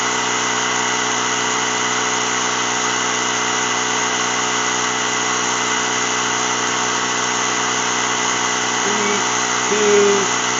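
A Ryobi ONE+ 18V battery mini compressor runs continuously at close range while filling a tire, a loud, steady mechanical drone with a constant buzzing hum and no pauses.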